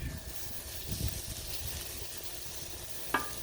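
Shrimp scampi sizzles on a Blackstone griddle outdoors, a soft steady crackle with faint stirring scrapes and one sharp metallic clink near the end, fairly quiet overall.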